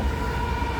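A westbound freight stack train rolls past at night, a steady loud rumble of railcars with a sustained tonal squeal, continuous and close for the brief moment.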